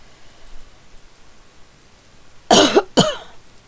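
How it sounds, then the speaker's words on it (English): Two sharp, loud coughs in quick succession from a nearby man, breaking an otherwise quiet room with no talking. "Sorry about the cough."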